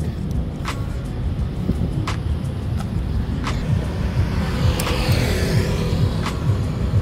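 Kawasaki Ninja 300 motorcycle fitted with a Yoshimura Alpha exhaust, idling up close with a steady low rumble broken by several sharp throttle blips that rise and fall in pitch, with no talking.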